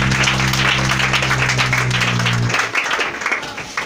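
A church congregation at a French-language worship service claps and applauds together, a dense, loud wash of hands with a low sustained tone underneath that drops out partway, the clapping continuing alone.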